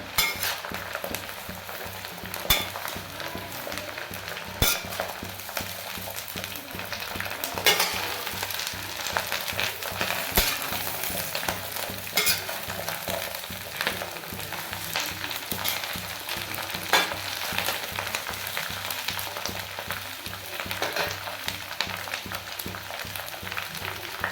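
Homemade mixed pickle (achar) is stirred and mixed in a vessel, with a continuous close scraping and churning that carries occasional light clinks throughout.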